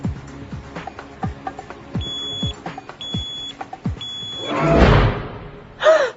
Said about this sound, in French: Léa, combien de fois t'as mis le réveil en pause?